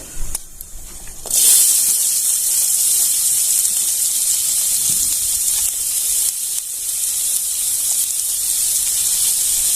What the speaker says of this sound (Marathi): इथे मी तेल गरम करायला ठेवलेलं आहे इथे एक चमचा जिरे एक चमची मोहरी घालून घेतली तीळ घालून घेतले कांदा घालून घ्यायचा